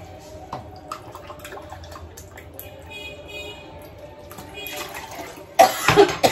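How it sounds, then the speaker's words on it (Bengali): A person with a lingering cough lets out a sharp, loud cough up close near the end, after a stretch of quiet kitchen clatter and faint running water. "কাশি আর কমছে না আমার"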